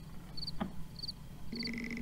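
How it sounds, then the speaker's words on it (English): Crickets chirp at night outside a skyscraper in the Roblox video game, short high repeating trills over a low hum, ending in a longer sustained chirp. "Why are we at the skyscraper so late at night that the crickets are out?"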